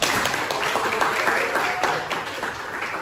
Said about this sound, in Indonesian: Yuk kita beri tepuk tangan yang beribu.